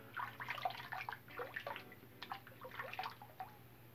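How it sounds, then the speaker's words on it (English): Water splashes and drips in short irregular bursts as a face is rinsed between shaving passes, close and fairly quiet, with no talking. "in between passes, rinse your face."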